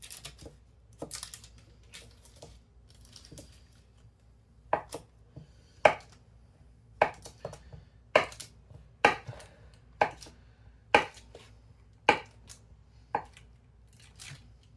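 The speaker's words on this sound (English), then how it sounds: "Alright, so we got some butter cut in." Knife cutting cold butter into flour for homemade biscuits, a series of crisp, evenly spaced chopping taps against a board, sparse at first, then settling into a steady rhythm, close and fairly quiet.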